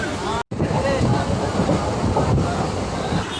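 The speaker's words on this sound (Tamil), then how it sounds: "எங்கே போயிட்டுருக்கோன்னா கோயிலுக்கு தான் ட்ரெயினில் போயிட்டுருக்கோம்" Inside a moving metro train in Chennai, a loud steady rumble and rush of wheels and air fills the cabin, with a brief dropout near the start and faint voices beneath.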